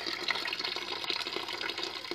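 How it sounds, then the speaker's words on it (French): Tap water in Mindoubé, Gabon, runs steadily from a faucet in a continuous, close splashing rush with no pauses or voices. "L'eau qui coule du robinet."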